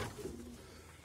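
A pigeon's soft, low coo, brief and close, over a faint background murmur.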